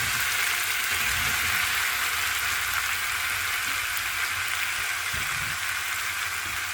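Potatoes sizzling as they go into a hot pan for aloo ki sabzi, after the spice paste has been fried with splashes of water; a steady, loud frying hiss runs throughout with a few small spits and no talk.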